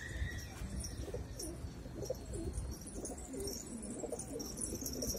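Soft, low cooing of a pigeon repeated in a gentle rhythm, close by, with faint chirps in the background.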